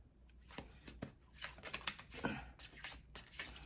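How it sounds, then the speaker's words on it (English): Soft, close-up riffling and shuffling of tarot cards in quick irregular bursts, quiet and without talking. "shuffle just a minute."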